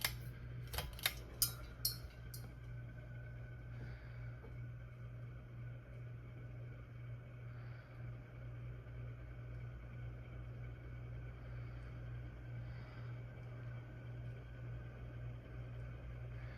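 A 36-inch J&P Manufacturing Kmart ceiling fan running on medium speed gives a steady, faint low hum with a soft whir, preceded by a few brief clicks at the start.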